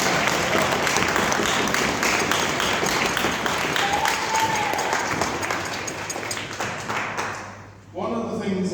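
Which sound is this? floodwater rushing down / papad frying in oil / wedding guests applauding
wedding guests applauding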